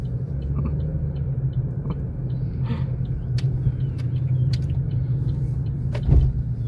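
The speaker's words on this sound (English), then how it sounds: "Oh, hit a bump." A car rolls along the road on a ride-along drive with a steady low engine and road rumble inside the cabin, then a single heavier thump as it hits a bump near the end.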